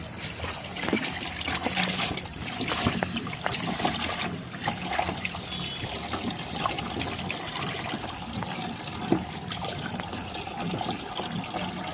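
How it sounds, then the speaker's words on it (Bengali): Chicken pieces are rinsed under a running kitchen tap, water splashing and trickling steadily over the meat in a bowl, close and fairly loud, with small clatters as the pieces are handled. "একটু মাংসটা ধুয়ে নিচ্ছি"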